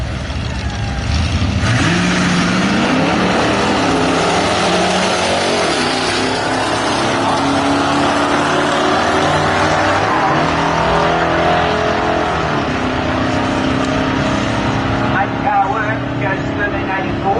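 A Mopar hot rod cruising down the road at nearly 100 mph, a loud continuous engine drone and road roar from inside, with a person talking over it.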